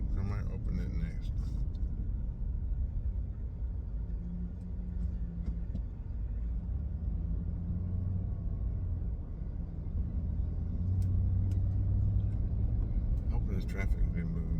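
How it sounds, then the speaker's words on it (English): Road traffic on a congested road hums in the background, a continuous low rumble of cars with a few passing swells, steady and moderately distant under the scene. "Hoping this traffic will be moving by now."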